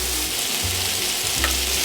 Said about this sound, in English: Keep it at medium high, and we'll cover that for a little bit and let that simmer down.